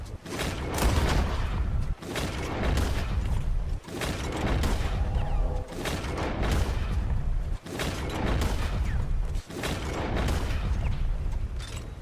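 Gunfire in Red Dead Redemption 2, loud repeated bursts of shots with short gaps every couple of seconds, booming and continuous through the whole stretch.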